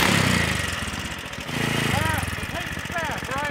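A 420cc ATV engine running without a muffler makes a loud, raw, pulsing rumble that fills the whole stretch, with revs rising and falling while people talk over it.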